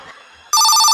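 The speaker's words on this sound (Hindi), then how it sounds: "अरे फोन किसका आ रहा है तुम्हारे घर पे?" A telephone rings loudly and abruptly, a bright electronic ringing tone starting halfway through after a quiet stretch.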